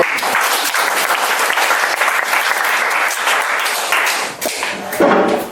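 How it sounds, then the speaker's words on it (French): A workshop audience applauds a volunteer with loud, close, dense clapping that holds steady for several seconds, then thins and ends in a last few sharper claps. "On l'applaudit"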